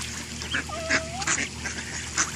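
Ducklings give repeated high peeping calls, one long drawn-out whistle among shorter chirps, close and clear over a steady hum.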